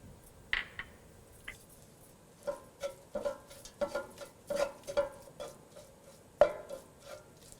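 Turmeric and coriander powder sautéed in a pan for a white chickpea curry: soft scattered taps and scrapes of a spatula against the pan, a dozen or so light knocks over a quiet background, no voices.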